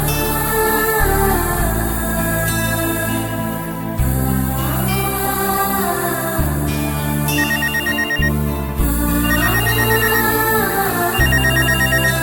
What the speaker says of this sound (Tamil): அஞ்சலி என்ன இந்த நேரத்துல போன் பண்றா?